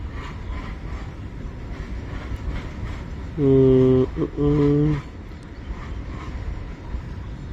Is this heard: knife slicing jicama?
no